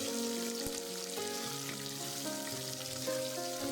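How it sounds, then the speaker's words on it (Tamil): Chopped onions sauté in hot oil in a pan for a pumpkin gravy, giving a steady, close, crackling sizzle with faint tonal hum underneath and no talk. "இப்போ எல்லாத்தையும் போட்டு நல்லா வதக்கிக்கோங்க."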